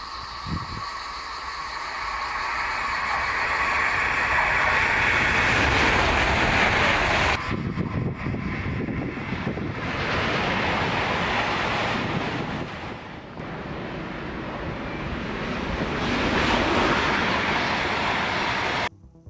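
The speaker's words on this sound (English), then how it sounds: "Number 5, Talgo 350, 217 miles per hour." A Talgo 350 high-speed train rushes past with a loud, sustained roar of wind and rail noise, the whooshing swelling and shifting over nearly twenty seconds before ending abruptly.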